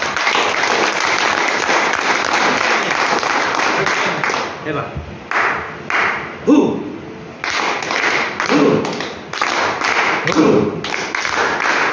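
A seated audience at a mentoring presentation claps their hands in a dense, sustained patter that breaks into short bursts with brief gaps, with voices talking over it.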